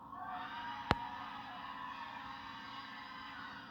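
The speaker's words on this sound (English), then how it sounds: "that is the sound of some happy students" Graduating seniors celebrate at a university commencement with sustained crowd cheering and shouting, heard from a distance as a steady broad roar, with one sharp clap-like burst early on.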